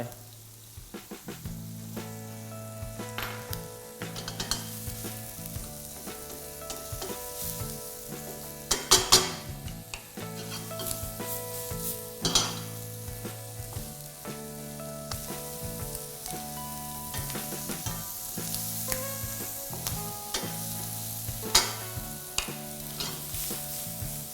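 Hong Kong-style rice noodles stir-fried with shrimp in a hot pan, a continuous sizzle with steady scraping and tossing of the spatula, occasional sharper clanks, close and moderately loud throughout.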